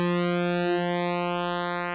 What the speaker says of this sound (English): And what I'm doing here is something called pulse width modulation.